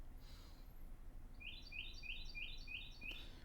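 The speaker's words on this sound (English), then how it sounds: "That bird is still chirping. That is loud, too." Outdoors, a bird gives a quick run of about six sharp, evenly spaced chirps over a low, steady background hum.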